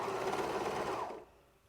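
A sewing machine stitches fabric shorts in a close, steady whir that runs for over a second, then cuts off into quiet room tone.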